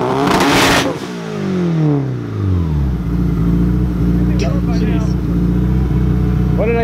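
A loud car on a Seattle street revs hard, a sharp roaring burst with falling pitch sweeps followed by a steady rumbling drone; people talk nearby.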